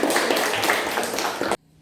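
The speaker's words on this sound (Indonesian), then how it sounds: "ya tepuk tangan untuk semuanya" Students in a classroom applaud in a short burst of dense, close clapping. It cuts off abruptly into near silence.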